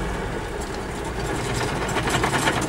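A T-150K tractor engine idles in a field, giving a steady, close, continuous low rumble with no pauses.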